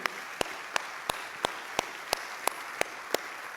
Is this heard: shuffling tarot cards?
no